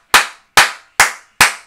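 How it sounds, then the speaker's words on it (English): Four sharp, evenly spaced hand claps, loud and close, each with a quick decay, with no talking. "Clap it up, man."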